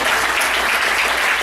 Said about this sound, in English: a big round of applause to all of our veterans.